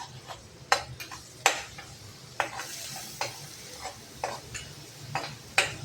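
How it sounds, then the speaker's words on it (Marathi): Onion frying on a raised flame while being stirred: a low sizzle runs underneath sharp, evenly spaced clinks and scrapes of a spoon against the pan, close and fairly quiet. "चांगला असं गुलाबी रंग आपण कांदा भाजून घेऊ."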